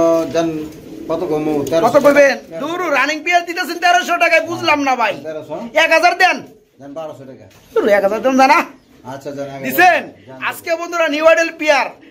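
Shirting pigeons coo in low, throaty, repeated bursts close by, several birds overlapping in rolling phrases with brief pauses between them.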